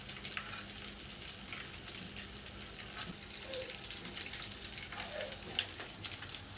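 Pieces of chicken for crispy fried chicken fry in oil, giving a faint, continuous bubbling hiss with occasional light pops and clicks.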